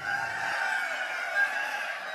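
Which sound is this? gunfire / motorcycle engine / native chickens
native chickens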